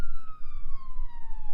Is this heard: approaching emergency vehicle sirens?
yes